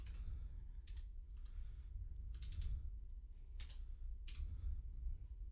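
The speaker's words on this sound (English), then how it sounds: "You're really good at typing there." Someone typing one-handed on a computer keyboard, giving sparse clusters of light clicks at an irregular rhythm over a steady low hum, close by with no talk.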